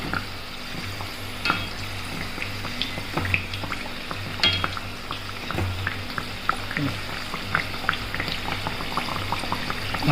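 Kachori fry and puff in hot oil, a close, bubbling sizzle with many small pops and crackles over a steady low hum, continuous throughout, with no talking.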